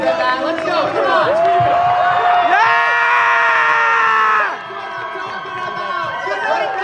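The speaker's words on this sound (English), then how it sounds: "Give yourself a round of applause for you. You guys can make better noise than that." A convention crowd at VidCon cheers, whoops and screams loudly, with voices rising and holding in a sustained roar before dipping, chatter and shouts continuing close by.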